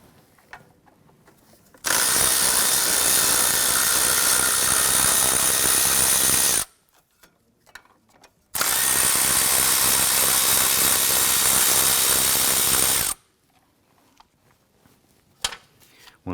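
Power tool removing two 10mm bolts from the throttle cable bracket of a 1993-1997 Ford Ranger, two loud sustained whirring bursts of about five seconds each, separated by a short pause, with quiet handling noises around them.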